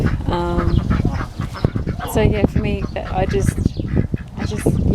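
Ducks kept as pets quack in a rhythmic series under a continuous spoken voice, with overlapping bird calls throughout.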